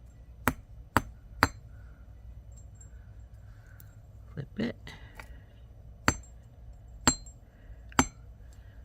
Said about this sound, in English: we ought to flatten slightly with the chasing hammer